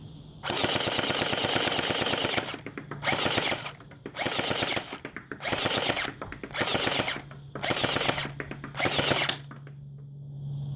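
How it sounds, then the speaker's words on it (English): X-Force STD6 gel blaster, stock and out of the box, firing on full auto in seven loud bursts of rapid mechanical rattling, each one to two seconds long, separated by short pauses and a low steady hum. "Now let's give it a whirl on the all auto and see how she sprays."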